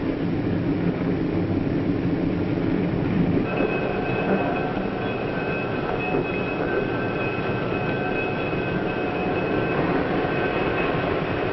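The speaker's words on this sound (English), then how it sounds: "a small station where the train stops only for a moment" A 1950s passenger train pulls into a small station, a steady rumbling roar of the cars with a faint, high, drawn-out brake squeal as it slows, continuous and fairly close.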